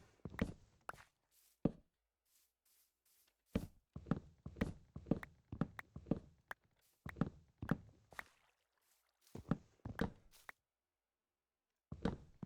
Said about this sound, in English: Thought I heard footsteps of a zombie coming.